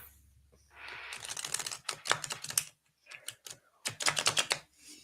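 A deck of playing cards is shuffled by hand, heard up close as rapid ticking and riffling bursts in uneven clusters separated by short pauses, with no voices.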